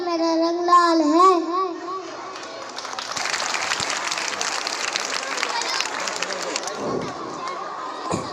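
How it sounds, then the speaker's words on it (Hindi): An audience claps for a child at a junior kindergarten annual school function, where someone speaks before sustained applause from a crowd that runs for several seconds at moderate loudness. "जोरदार तालियां इस बच्चे के लिए"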